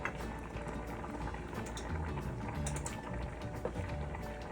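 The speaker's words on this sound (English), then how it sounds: "And now let's stir our shrimp back in." Shrimp being stirred into a creamy pasta sauce, with steady bubbling and simmering from the pan and soft scraping and clicking from the utensil, continuous and close.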